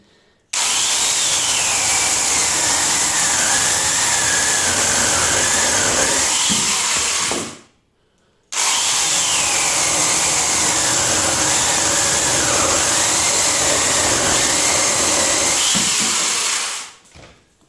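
An angle grinder with a chainsaw attachment runs in two long bursts separated by a brief pause, its whine wavering as it bites into wood, close and loud.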